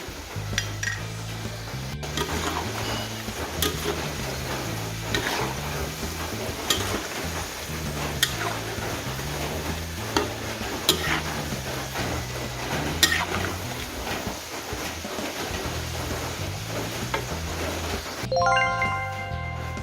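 Thai salty crispy snacks, khanom krob khem, fry in oil while they are turned back and forth, with a steady sizzle and frequent metallic clinks and scrapes of utensils against the pan.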